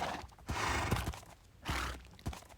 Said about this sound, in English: So many baby horses.